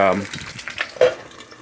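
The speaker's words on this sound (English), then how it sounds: "cracked the eggs into the frying pan. It is on very high heat." Hot oil sizzles and crackles as eggs fry in a pan on very high heat, a close, steady hiss with a few sharper pops.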